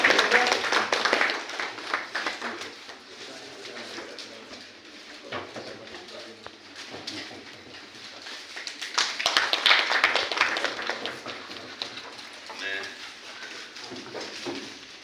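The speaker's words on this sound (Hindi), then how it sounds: "सभी तालियां बजाकर हार्दिक स्वागत करते हैं।" Clapping from an audience welcoming a guest at a two-day environmental seminar, a fairly loud spread of hands through the room with chatter and voices running underneath.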